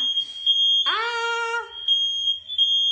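Smoke detectors set off by cooking emit a loud, steady high-pitched electronic tone that sounds continuously, with a brief voice-like harmonic sound rising partway through.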